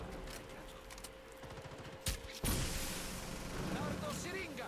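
Rainbow Six Siege gunfire: repeated shots and a heavy burst midway, followed by a loud crashing blast and lingering rumble, with a voice talking over it.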